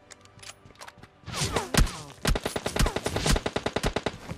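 Gunfire in the PUBG Lite video game: a few scattered shots, then sustained rapid automatic bursts of sharp, loud cracks in quick succession, with no talking.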